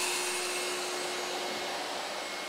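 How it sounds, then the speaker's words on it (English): A vacuum pulls abrasive dust and debris away during automated brick blasting, giving a steady, loud, airy roar with a faint whine running through it, continuous and unbroken with no talk. "So it's pulling in all of the abrasive,"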